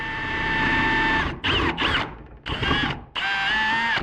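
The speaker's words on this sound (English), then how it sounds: "Now I have to drill a hole right here for the key" Power drill boring a hole in a door for a key lock, a whining motor in several bursts separated by short pauses, close and fairly loud.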